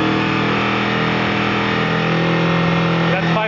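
Honda VFR motorcycle engine revving up toward 4,500 RPM, a steady loud mechanical drone with strong low harmonics held at a constant pitch throughout.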